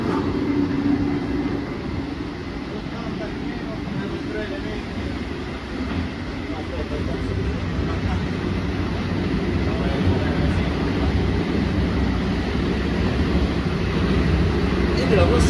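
Interior rumble of an FS ALe 642 electric multiple unit running on the Tirrenica line, a steady, continuous low roar of wheels and motors with no pauses, heard from inside a compartment coach.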